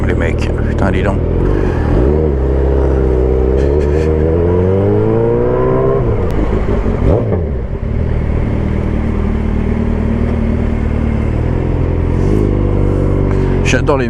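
A small retro-style motorcycle engine revs near a motorcycle dealership. Its pitch climbs and falls in a loud, sustained drone while people talk over it.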